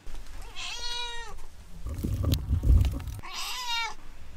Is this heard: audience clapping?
no